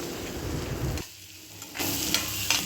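Onions frying in a pan with cardamom, cloves and star anise, stirred until reddish: a steady close sizzle that drops away briefly mid-clip, then returns loud with scraping stirs.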